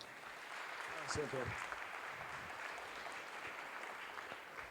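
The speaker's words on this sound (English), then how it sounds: "Please give a warm welcome and a round of applause for" An audience applauds to welcome a speaker at a talk on regenerative tourism, a fairly faint, even patter of clapping with a brief voice near the start.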